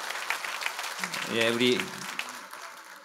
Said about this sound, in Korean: 우리 한번 큰 격려와 사랑의 박수 한번 해주시면 좋겠습니다.